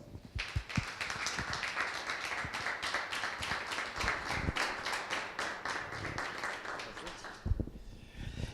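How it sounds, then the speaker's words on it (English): Applause and clapping from an audience welcoming the guest of honor at a Startup Grind Pretoria talk, loud and sustained for about seven seconds and then fading out. "Brandon Topham, please, a round of applause"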